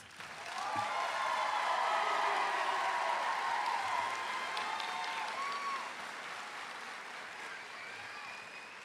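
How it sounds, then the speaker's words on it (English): A crowd at a high school commencement claps steadily, rising to a strong sustained round of applause before tapering slightly, with no speech over it. "Give them a round of applause, folks."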